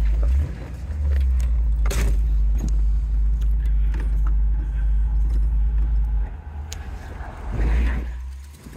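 A 1965 Ford Thunderbird convertible with a 390 engine pulls away and drives around the block, a steady low V8 rumble close up with a few light clicks and rattles from the cabin.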